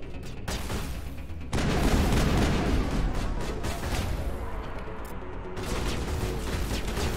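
Sci-fi weapon fire against Geth in the Mass Effect video game, loud bursts of rapid gunfire and explosive blasts crowding the scene with brief pauses between volleys.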